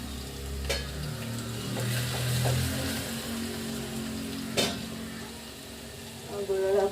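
Garlic sizzling in hot oil in a home kitchen pan for lentil curry, a steady soft frying hiss with occasional stirring clinks and scrapes, while low music plays in the background.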